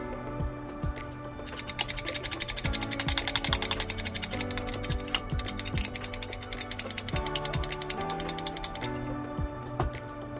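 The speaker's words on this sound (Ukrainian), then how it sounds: "Беремо викрутку і пробуємо її намагнітити." A screwdriver is worked back and forth through a small plastic-bodied Dnipro-M magnetizer, producing steady ratcheting, clicking mechanical rattles with bursts of sharp ticks, close and fairly loud throughout, with no talking.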